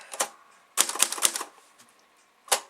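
A vintage Commodore typewriter clatters in short bursts of key strikes, a quick group of taps followed by a longer run of keystrokes and one more isolated strike, close and fairly loud with no talking.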